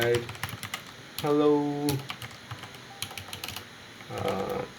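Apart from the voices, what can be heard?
typing on a computer keyboard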